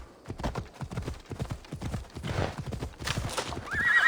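Hooves clip-clop in a steady galloping rhythm as a horse is ridden in Assassin's Creed Odyssey, close and clear, with a brief whinny and no talking.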